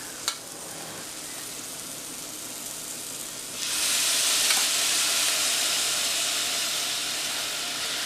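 Green beans hit a hot pan with mushrooms and onions, a quieter sizzle suddenly swelling into a loud, hissing fry that stays steady and close, with no talking.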